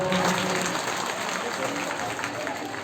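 Applause welcoming guests at a school function, a dense, steady clatter of many hands clapping together throughout, fairly close, with a faint crowd murmur under it.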